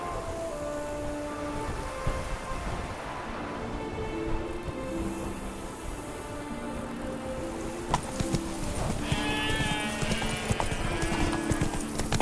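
A horse gallops with rapid, rhythmic clip-clop hoofbeats in The Witcher 3: Blood and Wine, heard over game music and ambient weather sounds.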